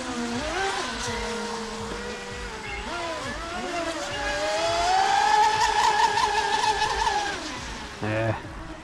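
High-pitched whining electric motors of 4S RC boats, a TFL Rocket racing a Traxxas Disruptor on water, rising and falling as they pass and speed up, with people talking under the motor noise.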